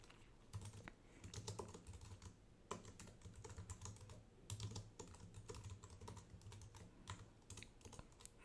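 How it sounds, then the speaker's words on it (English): Rapid, quiet clicks of fingers typing on a computer keyboard, coming in uneven bursts of keystrokes with short pauses between them. "you can try that out just by typing, you know, a new user here"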